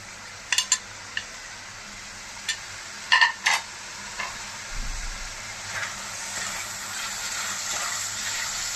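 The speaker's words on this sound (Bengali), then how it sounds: "ঢাকনাটা খুলে নিচ্ছি, একটু নাড়িয়ে দিচ্ছি" Garlic chicken being stirred in a pan after the lid comes off: a few sharp utensil knocks and scrapes early on, then a low, steady sizzle that carries on quietly to the end, close by.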